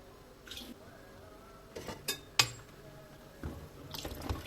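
Boiled water splashes and pours into a pot of rice in a few separate bursts, with light clinks of cookware between pours, close by.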